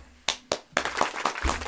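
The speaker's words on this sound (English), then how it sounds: "Clap it up." People at a live Q&A clap in a short burst of sharp, close hand claps that quickly run together into brief applause, with no talking over it.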